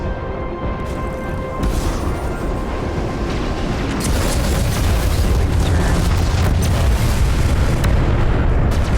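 Missiles launched at an enemy ship in the space combat game Star Citizen, flying an Aurora LN against a Vanduul swarm: a dense, continuous roar of engine rumble and booming bursts, loud and sustained throughout with no pauses.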